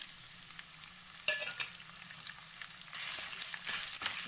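Dried red chillies frying in hot oil crackle and sizzle steadily, with sharp pops and stirring scrapes, the frying growing a little louder near the end.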